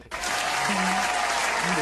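An audience claps in a dense, steady burst that starts abruptly and holds at even loudness, with a brief low vocal tone woven under the clapping.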